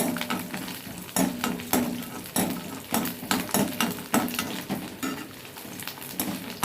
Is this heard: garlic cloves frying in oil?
yes